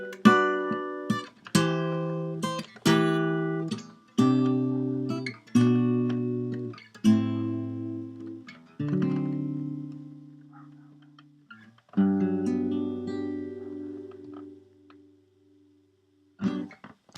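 An electric guitar plays a song intro alone: a run of plucked notes and chords in steady succession, each ringing and decaying, ending in longer sustained chords with a short pause before a final strum.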